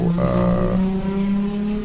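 A silver race car, number 131, passes on the Sebring track, its engine tone loud and close, dropping in pitch as it goes by, with a second engine note lingering steadily behind.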